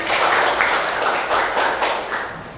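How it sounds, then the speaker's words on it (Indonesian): Applause from a classroom audience of students, a steady wash of many hands clapping close by that carries on with uneven swells for the whole stretch. "ayo kita beri tepuk tangan"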